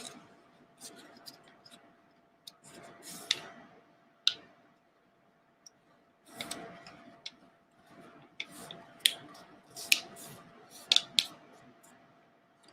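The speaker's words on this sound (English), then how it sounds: "we're going to fold our paper in half like this" Sheet of paper folded in half and creased by hand, heard as soft rustling bursts and sharp crinkling taps and scrapes spread across several seconds, close up, with faint whispery background.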